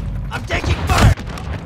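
Call of Duty Modern Warfare 2 multiplayer gunfire in a hardcore match: a short burst of loud shots and impacts, mixed with voiced game callouts, then cutting off abruptly.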